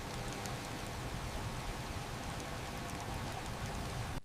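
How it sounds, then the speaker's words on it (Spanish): Steady rain drums on a car windshield, a dense even patter that holds at a constant level for a few seconds before cutting off abruptly. "El sonido de la lluvia golpeando contra el parabrisas"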